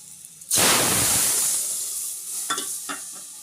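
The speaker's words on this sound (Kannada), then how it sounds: "ಎಣ್ಣೆ ಸಾಸಿವೆ ಜೀರಿಗೆ ಕರಿಬೇವು ಮತ್ತು ಬೆಳ್ಳುಳ್ಳಿನ ಹಾಕ್ಕೊಂಡಿದ್ದೀನಿ ಈಗ ಇದಕ್ಕೆ ಒಂದು ಬಗರ ಹಾಕ್ಬಿಡೋಣ" Mustard seeds, cumin, curry leaves and garlic hit hot oil in a tempering for sambar, bursting into a sudden loud sizzle that slowly settles into a softer crackle, with a few small pops near the end.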